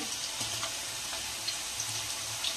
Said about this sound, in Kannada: ಎಣ್ಣೆ ಕಾ ಇನ್ನೊಂದು ಸ್ವಲ್ಪ ಕಾದಿದೆ ಇದು ಹಾಕೊಳ್ಳೋಣ ಸ್ಲೈಸ್ ಮಾಡ್ಕೊಂಡಿರೋಂಥ ಬಾಳೆಕಾಯಿನ ಬಿಡಿ ಬಿಡಿಯಾಗಿ ಹಾಕೊಳ್ಳೋಣ